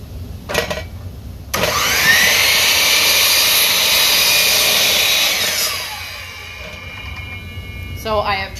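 A sliding miter saw trims the end of a board in a woodworking shop: the motor spins up with a loud, steady whine that holds through the cut and then winds down, with a brief knock before it starts.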